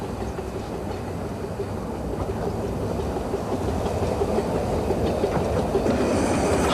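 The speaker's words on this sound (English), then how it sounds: "Number 10, Dr. Sinn, arriving at Hythe Station, was built by the Yorkshire Engine Company in 1931, a miniature of a North American Pacific locomotive" Number 10 Dr. Syn, a miniature North American Pacific steam locomotive built by the Yorkshire Engine Company in 1931, rolls into Hythe Station with a steady rumble and clickety-clack of wheels, growing gradually louder as it approaches.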